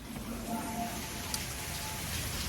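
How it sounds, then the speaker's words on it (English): Rain falls during a storm in Georgia, a soft steady wash of drops heard from outdoors, faint and even throughout with no voices. "But the rain's coming back"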